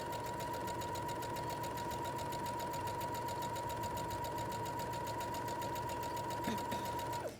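A sewing machine stitching the side seam of fabric, pins pulled as it goes, running as a steady rapid mechanical chatter with a constant motor hum, close and even for about seven seconds before stopping.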